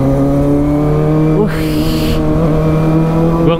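Kawasaki ZX25R motorcycle with a header exhaust revving hard in fifth gear, a loud, steady high-pitched engine howl with a brief crackling burst partway through.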